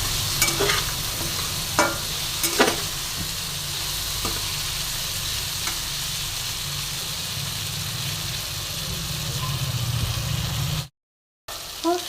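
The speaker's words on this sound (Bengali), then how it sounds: "দেখো ভালো করে নাড়াচাড়া করছি" Ginger paste with tempering spices fries in a pan over a medium flame, a constant sizzle broken by scraping stirring strokes, continuing alone until a brief silent gap near the end.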